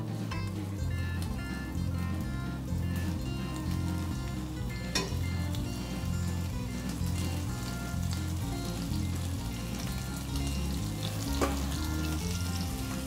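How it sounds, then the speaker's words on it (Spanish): Stew meat sizzles as it browns in a hot pot over the flame, a steady dense frying crackle with occasional sharper pops, close and continuous, with a low hum underneath and no voices. "Y ahí ya vamos a empezar a dorar"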